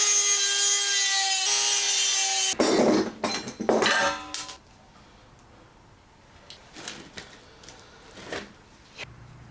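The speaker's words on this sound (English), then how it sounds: "I'm going to cut a hole in the pipe here for the propane tube to come out" A saw rasps through a pipe, cutting a hole for a propane tube, in a burst of close strokes after a steady whine. Quieter scraping and rubbing follow, with no one talking.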